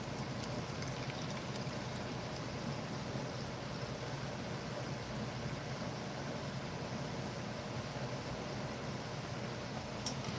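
Water pours steadily into a bottle in a continuous broadband stream, close and fairly quiet, with no talking.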